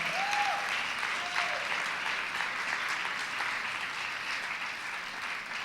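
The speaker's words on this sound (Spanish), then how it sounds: "Da un aplauso más fuerte al Señor." Sustained applause from a church congregation, steady clapping throughout with a brief faint voice near the start.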